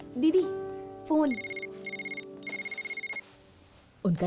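Telephone ringing with bursts of electronic trills in a quiet home, pausing between rings, while voices speak briefly before and after.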